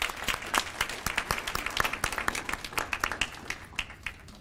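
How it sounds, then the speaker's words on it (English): An audience claps steadily at an evening community beautification awards ceremony, a crisp moderate round of many hands applauding at middle distance without any talking. "A round of applause for these excellent examples of organizations."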